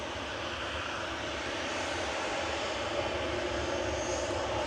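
A Ryanair jet airliner takes off at Manchester Airport, a constant broadband engine roar at moderate distance, steady and unbroken, with no voices.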